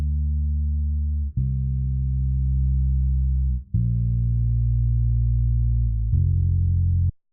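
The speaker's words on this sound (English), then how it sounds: "a low pass or high cut filter that's filtering out everything below around 170 hertz" Deep sub bass track passed through a low-pass filter at about 170 Hz, with the top end cut, playing three long sustained notes with brief gaps, heavy and smooth with nothing above the low rumble.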